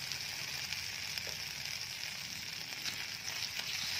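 Raw turmeric and mango ginger paste fries in a pan while being stirred, giving a soft, even sizzle with faint scraping, low and steady throughout.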